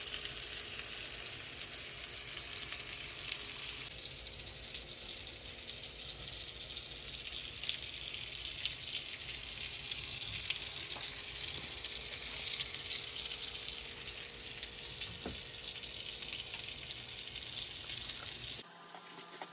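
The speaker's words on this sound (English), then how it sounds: "get your well-seasoned salmon fillets into the skillet and let them brown on both sides" Seasoned salmon fillets searing in a hot skillet, a steady close sizzle and crackle throughout with a small pop near the end, no voices.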